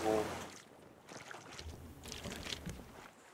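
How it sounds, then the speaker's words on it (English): A wooden raft is paddled across open water in the video game Raft, with steady splashing strokes and a soft wash of water and wind running throughout at a close, moderate level. "I'm paddling on the wood."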